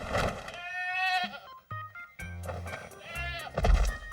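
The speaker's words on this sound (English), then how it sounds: "All right, Carrie, these are the male goats." Several male goats at a bucks party bleat loudly and close, with overlapping wavering calls filling most of the stretch, a brief pause midway and a deep grunting bleat near the end.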